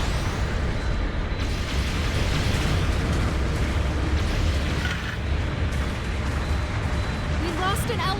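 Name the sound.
mobile suit exploding in Gundam Battle Operation 2 video game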